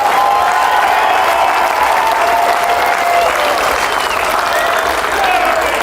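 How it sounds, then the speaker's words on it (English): A large conference crowd at the Durham Miners' Conference applauds loudly and steadily, a dense wash of clapping that holds without a break. "let him hear you applaud and support"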